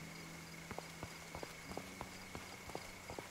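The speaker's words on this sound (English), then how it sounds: "Can you hear the footsteps and the rain?" Footsteps in the video game Hokko Life, heard as a steady series of light, crisp clip-clop taps over a soft, even hiss of rain. Faint background music runs underneath.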